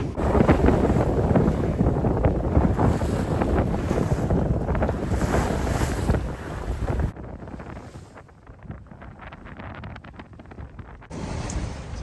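A sailboat beats upwind along the Costa Brava, with strong wind buffeting the microphone and a steady rush of water against the hull that eases off partway through and then returns.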